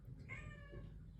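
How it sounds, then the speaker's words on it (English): A house cat gives a single drawn-out meow, fairly quiet and close, over a low steady background hum. "That's my cat, Bugsy"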